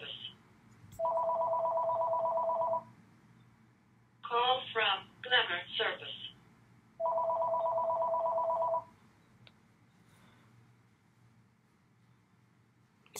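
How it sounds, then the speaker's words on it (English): A house phone rings indoors with two evenly spaced electronic ring bursts, and between them a synthetic voice announces the caller; the rings are moderate and clear over quiet room tone. "sorry, that was the house phone"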